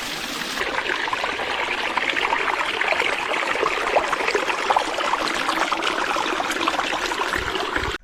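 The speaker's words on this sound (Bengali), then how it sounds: "জলের কলকল শব্দ কানে আসছে। এই হচ্ছে ঢাঙ্গি কুসুম ওয়াটারফলস" Water flowing at Dhangikusum waterfall, a steady broadband rush and babble that stays continuous and fairly loud for the whole stretch, with no voices.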